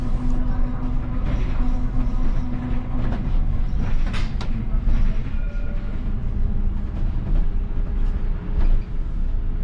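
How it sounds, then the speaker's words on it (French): A tram travels along Rue Louis Pasteur toward the central station, giving a steady, close rumble of rail wheels and motor with faint squeals and clicks running through the whole stretch, no voices. "Un tramway, se dirigeant vers la gare centrale, traverse la rue Louis Pasteur."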